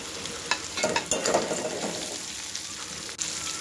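Cashews and raisins sizzle in oil as they are stirred in a pan, with scraping spoon strokes over a steady crackling fry.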